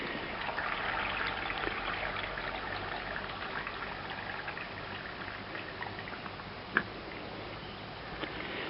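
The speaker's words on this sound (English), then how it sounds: "we're now going to just tip that water out of the bin" Water tipped out of a bin while making grape juice, heard as a steady, moderately faint rushing pour that runs evenly throughout, with one brief sharp knock near the end.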